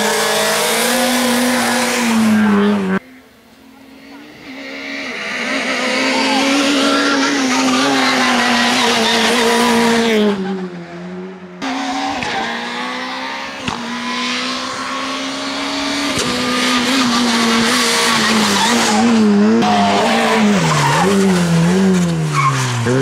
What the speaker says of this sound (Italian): Il rombo del numero 41 nella passerella di San Pio a Tramare